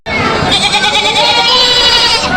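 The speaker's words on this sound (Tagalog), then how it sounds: "kasi ito mga kambing niya yung mga alagain pa" Several goats bleat loudly and continuously, overlapping calls close by with a busy, crowded farmyard feel.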